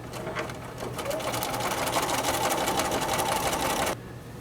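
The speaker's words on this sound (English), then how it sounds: "sew a 1/4 inch seam to sew on the strip" A sewing machine runs steadily for about four seconds, stitching a quarter-inch seam along a fabric strip for a butterfly quilt wall hanging, then stops abruptly near the end.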